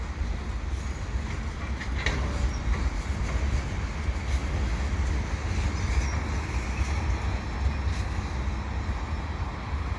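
A long CN freight train rumbles past with a steady low roar and faint rhythmic clatter of wheels, continuous throughout, no voices.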